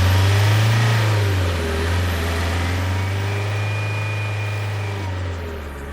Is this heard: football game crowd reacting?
no